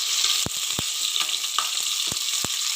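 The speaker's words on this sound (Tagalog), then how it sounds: "and then we'll start frying" Onion fries in a pan for chicken liver adobo, a continuous bright sizzle close up, punctuated by several light taps of a utensil stirring.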